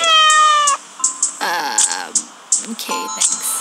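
A cat meows in the video game A Street Cat's Tale: one long tonal meow opens, then a few shorter meows follow, loud and close, with bright chime-like game tones ringing in between.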